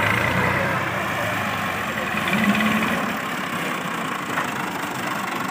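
A tractor engine idling and running at a steady, fairly loud rumble on a village farm, close by and continuous with little change in pace.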